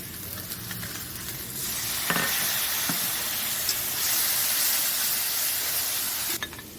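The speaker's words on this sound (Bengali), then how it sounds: "এবার আমি এই কাশ্মীরি লঙ্কা গুঁড়োর মধ্যে একটু জল দেবো, দিয়ে ওটাকে কড়াতে দেবো, দিয়ে ভালো করে নাড়বো" Kashmiri chili powder paste mixed with water sizzles steadily in a kadai, a close, continuous hiss with a few soft scrapes and taps of stirring.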